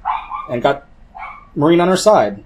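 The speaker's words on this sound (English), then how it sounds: "I'm sorry about the dog barking." A dog barks a few times in short bursts close by, mixed with someone talking over it.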